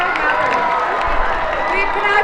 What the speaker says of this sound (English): Give a big round of applause one more time for all the staff and all the parents that helped today happen